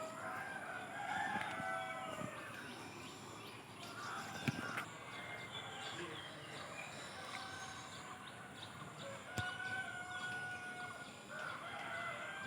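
Chickens on a poultry farm near Faridpur cluck and a rooster crows at a distance, faint and scattered over quiet outdoor ambience.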